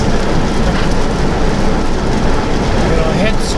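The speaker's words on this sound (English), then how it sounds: "the wind's blowing. I don't know if you can see it in video, but the rain is sideways." Heavy rain driven sideways by strong wind, a dense, steady and loud roar that fills the whole clip with no letup.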